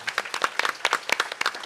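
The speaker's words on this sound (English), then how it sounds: "Can we have a round of applause for Father Sebastian's talk?" Small audience at a summit panel applauding after a talk, a quick run of distinct, moderately close hand claps with no talk over it.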